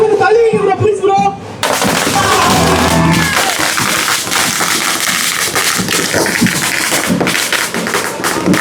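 Firecrackers burst in rapid crackling volleys among a noisy, cheering crowd of Vijay fans at a first-day-first-show celebration for the film Jananayagan. The sharp pops and rattles are loud and dense, with voices shouting throughout.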